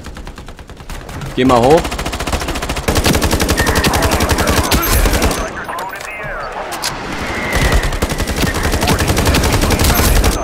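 Rapid, dense gunfire from an online Ironsight shooter match, with bursts crackling nearly nonstop and a brief lull midway, while someone talks over the shooting.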